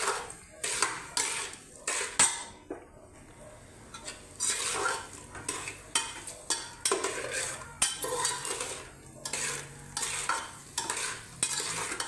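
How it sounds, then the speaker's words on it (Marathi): Boiled, mashed potato stirred and sautéed in a metal pan for sabudana khichdi, with a close, steady run of utensil scrapes and clinks against the pan over a soft frying sizzle. "चांगलं परतवून घ्यायचं।"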